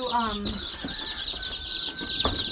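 Baby chicks being unboxed give a continuous chorus of high, thin peeping chirps, close and fairly loud, with light handling noise underneath.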